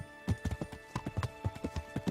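Horse hooves clip-clop at a quick, even pace in Kingdom Come: Deliverance, the close, distinct hits falling in a steady trotting rhythm throughout.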